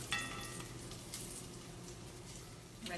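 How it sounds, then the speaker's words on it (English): Cornmeal-battered dandelion flowers frying in oil, a soft continuous sizzle and bubbling, faint and steady with a small knock near the start. "So we'll give these a few minutes to cook, and then our fried dandelions will be ready."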